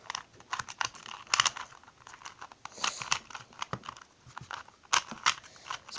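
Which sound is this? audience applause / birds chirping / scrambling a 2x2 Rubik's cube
scrambling a 2x2 Rubik's cube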